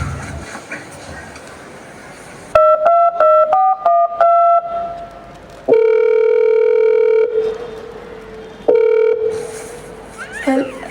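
Telephone call in a Hindi school skit: a burst of rapid dialing tones, then a loud steady ringback tone in long repeated pulses, fairly close and clear with background noise between.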